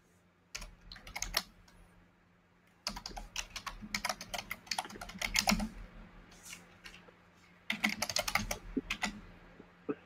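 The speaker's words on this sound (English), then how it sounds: "You can just keep typing away, Andrew" Steady typing on a computer keyboard in three bursts of rapid, close clicks separated by short pauses, with a faint hum in the background.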